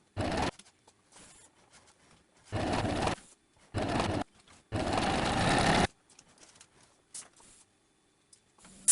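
A sewing machine stitches a dress seam at the shoulder, several whirring runs of varying length separated by pauses, the longest lasting about a second, close and clear with no talk.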